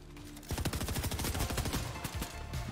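Rapid automatic gunfire from a Fortnite match rattles out in a dense, loud burst of rounds lasting about two seconds after a brief pause.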